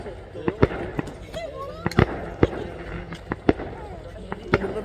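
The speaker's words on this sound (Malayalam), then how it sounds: "നല്ല അടിപൊളി ഫയർ വർക്ക്സ് ആണ്." Fireworks burst at a camp in the UAE in a string of sharp, irregular cracks and pops, some louder and nearer than others, with people talking and chattering underneath.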